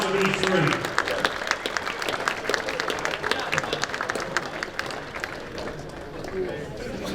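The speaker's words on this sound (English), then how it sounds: "Ladies and gentlemen, a big round of applause for these 3." An audience applauds at a celebrity sports dinner for the Hurricanes with Doug Gilmour: a dense, steady wash of many hands clapping nearby, with some cheering voices mixed in throughout.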